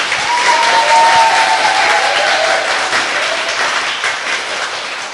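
A studio audience claps steadily on a Korean political talk show after a remark from a candidate, the dense applause filling the clip with no talk over it.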